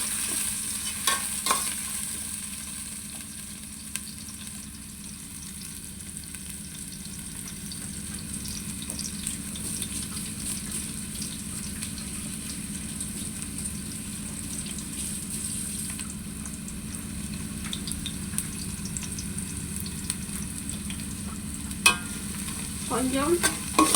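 Chopped onions sautéing lightly in a pan, a soft steady sizzle with intermittent stirring scrapes and clinks, fairly quiet and without voices throughout.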